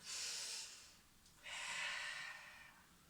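Two slow, airy breaths taken while bent over, close and soft, the first exhale fading before a second, longer one follows.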